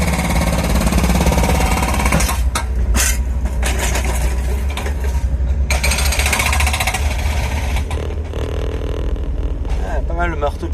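A jackhammer pounds away close by in a loud, continuous burst, with a roar of engine or traffic noise underneath and talking mixed in at times.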